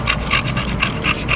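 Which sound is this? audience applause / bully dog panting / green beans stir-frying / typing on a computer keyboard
bully dog panting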